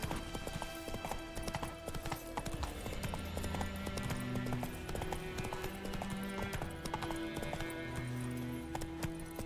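Roach the horse's hooves clip-clop in a steady, rhythmic gait through swampy ground and over a bridge in The Witcher 3: Wild Hunt, with game music tones underneath.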